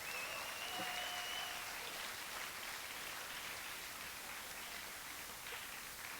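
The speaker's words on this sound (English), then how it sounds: "Please give a big round of applause once more for our opening acts." Audience applause for the opening acts at a film festival awards show, a dense steady wash of clapping heard from a distance and fairly faint, with no voices over it.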